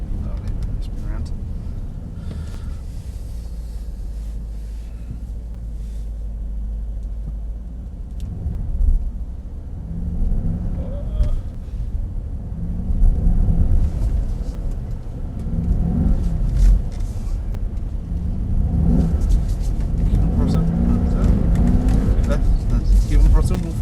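A Mercedes-AMG SL63 engine rumbles and swells under throttle on a race track, a steady low drone building louder toward the end while a voice talks over it.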